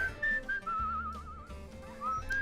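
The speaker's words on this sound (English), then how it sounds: "So we'll get some more whistling on there." A melodic whistled tune in the video game Where The Water Tastes Like Wine, wavering and sliding between notes over soft background music, with no talk.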